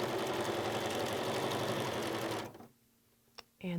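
A sewing machine stitches quilt binding with a steady, fast mechanical whir and needle chatter for a few seconds, then stops, and a voice speaks briefly.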